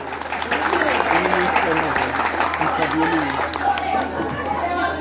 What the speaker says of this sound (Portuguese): Parabéns aí, uma salva de palmas.